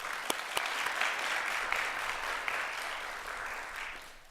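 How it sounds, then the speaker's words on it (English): Audience at a fashion and business trade event claps in a fairly quiet, even burst with a few sharp individual claps near the start, tapering off toward the end. "deserves an individual round of applause"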